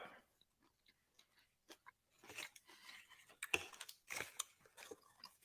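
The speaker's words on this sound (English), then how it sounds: "Let me know if y'all hear that crunch in that mic." Crunchy food is chewed close to a microphone: a slow run of faint bites that grows into louder, crisp crunching bursts, with no talking.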